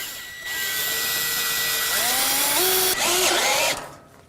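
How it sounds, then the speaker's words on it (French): A power drill drives screws fixing a terrace edge profile to a joist on a Terrassteel structure for a ceramic slab terrace, a steady motor whine rising in pitch as the screw seats, then a brief second burst before stopping. "Et je visse comme ça le profilé tous les mètres."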